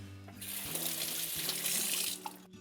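Tap water runs steadily into a sink as plum tomatoes are given a quick rinse, a close, continuous splashing hiss lasting a couple of seconds before it cuts off.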